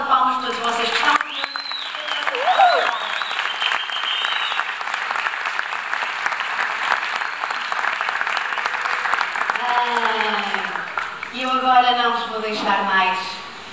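Crowd at a dance championship claps in sustained, loud applause, with a presenter's amplified voice speaking over it at the beginning and again near the end.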